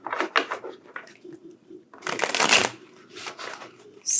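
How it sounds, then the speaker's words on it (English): A deck of tarot cards being shuffled close by, with repeated crisp riffling bursts and a longer loud flurry in the middle, quick papery slaps and flicks with no voices. "Shuffle them real quick."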